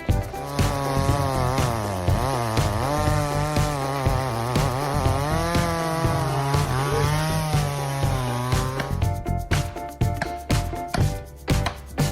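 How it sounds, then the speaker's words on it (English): A loud chainsaw roars steadily while cutting through a roughly 30-year-old tree, its engine pitch rising and dipping, then sputtering into choppy bursts near the end. "Chainsaws are so popular because of their ability to cut at super fast speed and convenience."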